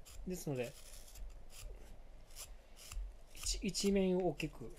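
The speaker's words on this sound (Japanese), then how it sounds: "細かく掘らずに、一発で掘るんですけれども、同じ面を何回いってもいいですよ" A knife carving wood, with short rasping scrapes and rubbing strokes in a quiet room, coming in brief bursts between a man's speech.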